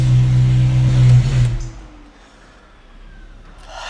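Ferrari 458 with a rebuilt transmission, its engine rumbling low and loud at idle while backing into a garage, then a brief rev before the sound drops away to a quiet hum.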